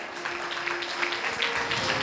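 Church congregation clapping in welcome at a programme, a soft, steady patter of many hands heard from a distance, fairly faint and continuous for a couple of seconds.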